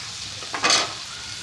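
Fish pieces fry in spiced masala with a steady close sizzle, swelling briefly into a louder hiss midway as the frying intensifies.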